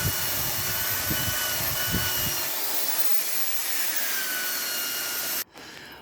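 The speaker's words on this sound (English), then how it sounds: "we're now going to give this a little bit of a wire brush" A wire brush scrubs a Rover 45 driveshaft part in close, rough rasping strokes for a couple of seconds, then a steady hiss continues before a brief cut.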